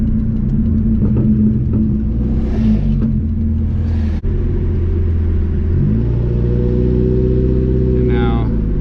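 A Mazda Miata cruises along the road, its engine a close, steady drone with rising pitch under acceleration and a noticeable gear change partway through.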